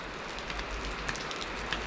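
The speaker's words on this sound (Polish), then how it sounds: "I teraz znowu zaczęło padać." Rain falls steadily outdoors on a farm, a faint, even patter with a few sharper drops, heard alone without speech.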